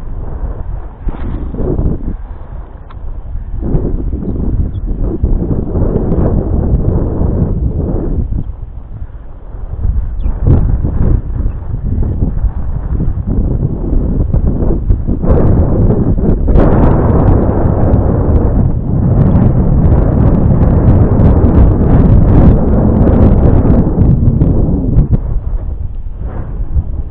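Strong wind blowing over a flooded spring river during a fishing trip, a loud, continuous buffeting roar with gusty surges, heavy microphone wind noise throughout and no speech.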